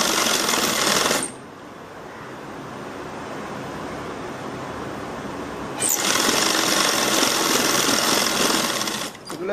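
A sewing machine runs continuously while stitching the hem of a salwar kameez sleeve, a loud steady whirring drone that quietens in the middle stretch before picking up again.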